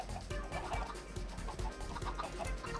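Chickens in the video game Minecraft cluck in quick, repeated bursts, close and moderately loud, with several clucks overlapping in a steady rhythm.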